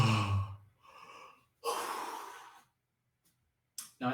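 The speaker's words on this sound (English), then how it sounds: "big breath in." Slow, audible breathing during a guided stretching and meridian exercise session, with a long deep inhale and exhale close to the microphone, then quiet and a short breath at the end.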